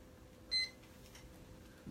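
Short electronic timer beep sounding once after a countdown, fairly clear over quiet room background.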